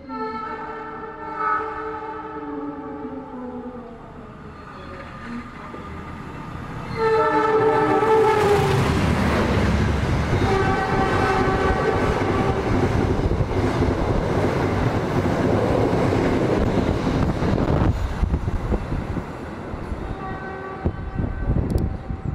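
The Argo Lawu express train, the fastest on the line, passes an Indonesian economy train halted at a station. Its horn sounds with sustained tones, then a loud, close roar of rushing carriages and wheel clatter continues to the end.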